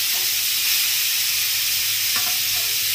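Grated red pumpkin drops into hot ghee in a wok and fries with a steady, loud sizzle and steam hiss throughout, with faint stirring scrapes near the end.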